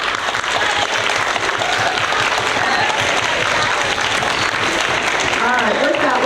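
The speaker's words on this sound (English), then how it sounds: "let's do a round of applause, everybody" Sixth-grade students applaud at an honor roll assembly, a loud, dense and sustained round of clapping filling the hall, with voices mixed in beneath the applause throughout.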